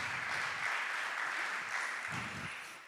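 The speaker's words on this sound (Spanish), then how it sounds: "Y un aplauso al Señor por eso" A church congregation applauds steadily for a few seconds, a dense wash of many hands clapping at moderate distance, with faint low murmurs of voices underneath.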